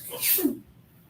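A single sharp sneeze, close and fairly loud, with a breathy burst followed by a brief vocal catch, then quiet.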